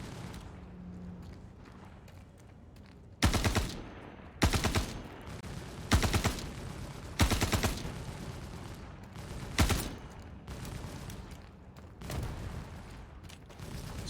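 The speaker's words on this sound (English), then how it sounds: "they're shooting at my cutter" Gunfire raking the player's cutter ship in a space video game: several loud, sharp bursts of rapid shots hit at irregular intervals over a low background hum.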